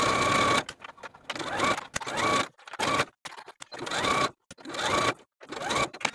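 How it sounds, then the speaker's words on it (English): A sewing machine stitches dress waistbands together with a 5/8 inch seam, running in short close bursts of rapid mechanical whirring and clatter separated by brief pauses, with no voices. "Now we'll sew these waistbands together from one end to the other with the bodice sandwiched in between with a 5/8 inch seam"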